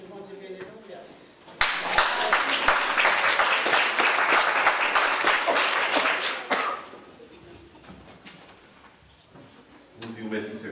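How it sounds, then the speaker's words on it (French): An audience at a special children's programme breaks into dense, loud applause that runs for about five seconds before fading, with voices talking before and after. "nous applaudissons chaudement"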